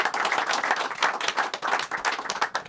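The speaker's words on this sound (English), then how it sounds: "Give them a big round of applause." Audience applause from a small crowd, steady, dense clapping sustained for a few seconds at moderate volume with no voices.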